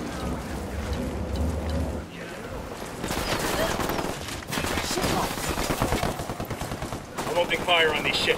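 Rapid automatic gunfire bursts from the Ghost Recon Wildlands video game, loud and dense with repeated shot volleys, mixed with game effects and talk.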